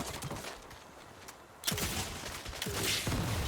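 Gunfire in the Saints Row video game, with sharp bursts of shots and clattering impacts building from a quieter stretch into a loud, dense volley near the end, mixed with game effects.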